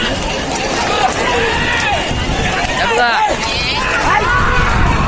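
Bulls pull carts at a bullock cart race in Nandgaon Bandar, a loud, continuous rush of hooves and wheels mixed with a cheering crowd and an excited commentator talking throughout.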